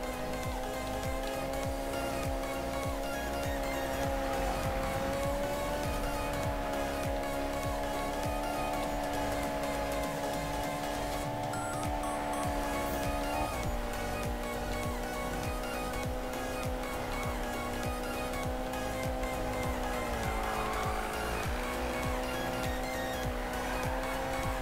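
In a Need for Speed race, a car drifts while its engine drones steadily and loudly under constant music, with tire squeal mixed into the sustained roar.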